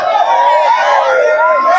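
Football supporters in a stadium cheer and applaud in a steady, loud crowd roar that holds for the full two seconds, with sustained tonal chanting woven through it.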